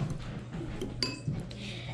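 Hot dogs stirred in a cooking pot, with light metallic clinks of a utensil against the pot over a steady low hum, a few sharper knocks standing out near the middle.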